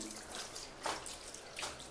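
Hot water runs steadily from a tap, a soft continuous hiss with slight surges, faint and close.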